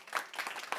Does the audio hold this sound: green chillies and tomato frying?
no